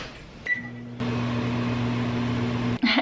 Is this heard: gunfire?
no